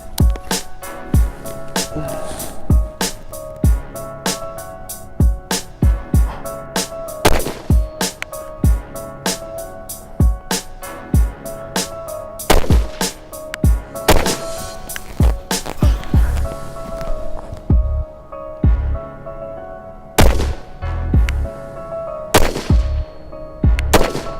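Rapid, steady rifle fire from an MK 12 Mod 2 loaded with 69 grain Sierra MatchKing rounds, dozens of sharp close cracks with a metallic ring from the flash hider, paced at roughly one or two a second with brief pauses near the end.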